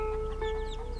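Farmyard chickens clucking softly over a steady background hum, brief bird-like calls close by.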